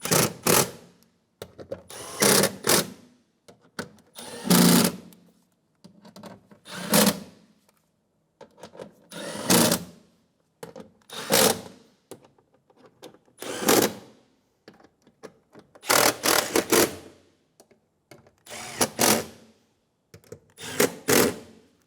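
Exterior door handle fasteners on a 2007-2012 Nissan Altima tightened with a power driver, about a dozen short buzzing bursts separated by quiet gaps, close and fairly loud.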